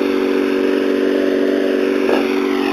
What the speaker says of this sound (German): ich mähe gerade